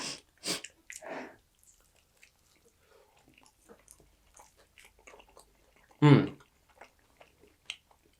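A person chewing hot food close up, with soft wet squishy mouth sounds and breaths, one louder burst near the end, quiet between.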